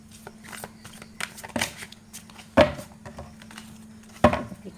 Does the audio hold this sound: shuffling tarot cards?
yes